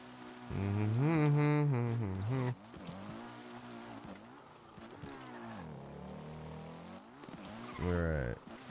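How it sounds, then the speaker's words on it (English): Motorcycle engine in a video game, ridden through a dark, rainy scene, revving with pitch sweeping up and down; loud bursts early and near the end, with a steadier drone between. "the motorcycle sounds are back now"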